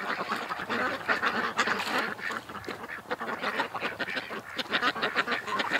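Several ducks quack busily in a yard, a dense, overlapping chatter of calls at close range that carries on without pause, with no one talking.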